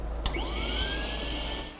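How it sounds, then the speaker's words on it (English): Vacuum cleaner sucking flour, semolina and coal dust out of a large coal-fired pizza oven in a New York pizzeria, a steady loud whine with a rising pitch after a sharp start. "we're vacuuming like the flour, semolina, coal dust in certain places"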